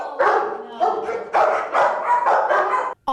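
Dogs and puppies crowded two to three per kennel at a full animal shelter bark in a loud, overlapping series of sharp yaps and barks, close and continuous.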